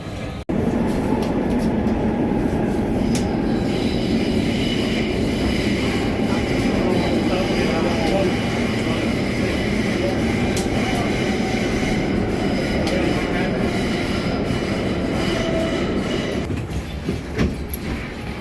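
A metro train ride heard from inside the car: a loud, continuous rumble and roar of wheels on track with faint rhythmic clicks, sustained throughout before easing slightly near the end.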